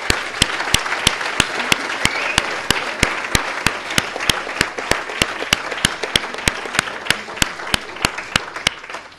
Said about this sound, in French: on va d'abord vous applaudir une première fois pour ça quand même